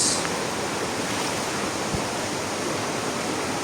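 River water rushes steadily at close range beneath tunnels, a dense continuous roar with no voices.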